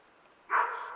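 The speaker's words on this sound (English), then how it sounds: "they're barking at the neighbor's dogs are out" A single short dog bark rises from a quiet room, moderately close and fairly faint, the dogs reacting to the neighbor's dogs being out.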